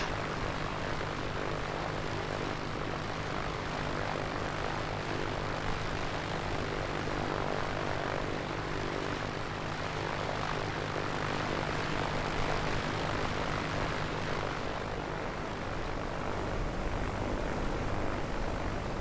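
Steady propeller engine drone from an A2A PA-24-250 Comanche single-engine light aircraft in Microsoft Flight Simulator, a loud continuous hum with no breaks throughout.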